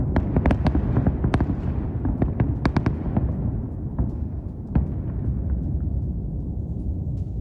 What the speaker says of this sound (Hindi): इस्फहान में एक के बाद एक कई धमाके हुए हैं।